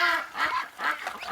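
Ducks honk in a cartoonish sound effect from the video game You Don't Know Jack, giving three or four loud, nasal honks in a quick row with no talk.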